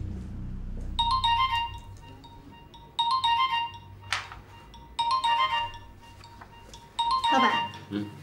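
A mobile phone ringtone in a Chinese TV crime drama rings loudly in repeated electronic melodic bursts about every two seconds, with short gaps between.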